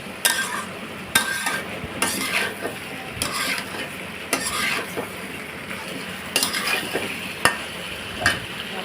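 Potatoes fry with spices in a pan while being stirred, a steady sizzle broken by repeated loud scrapes and clanks of a spoon against the metal, close up and without talk.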